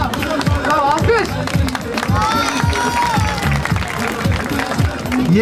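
A theatre audience at a prize draw claps in brisk, uneven bursts while voices talk and call out over the top, loud and close throughout.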